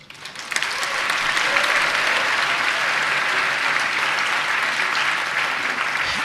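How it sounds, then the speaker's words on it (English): A congress audience applauding after a vice president's opening speech, a dense, loud wash of clapping that swells in quickly and holds steady for several seconds. "Why don't you give yourselves a clap?"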